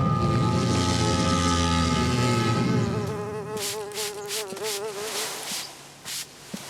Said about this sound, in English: Can't get any work done with those noisy planes buzzing overhead